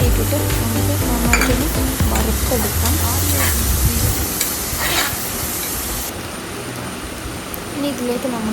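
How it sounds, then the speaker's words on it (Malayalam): Washed rice and spices fried and stirred in a hot pan for a beef rice dish, with steady sizzling and scraping stirs. A voice talks over the first half, then the frying continues alone. "നേരിട്ടിട്ട് നമുക്ക് നന്നായിട്ടൊന്ന് വറുത്തെടുക്കാം."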